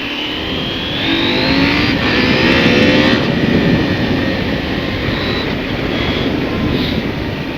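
A KTM 890 SMT 2023 supermoto motorcycle being ridden, its engine revving and rising in pitch through acceleration and cornering, loud and steady with wind rush and no talk over it.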